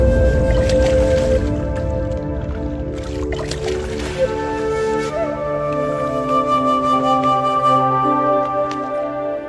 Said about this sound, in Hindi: अब आप इन दोनों घड़ों को पानी में डाल दीजिए।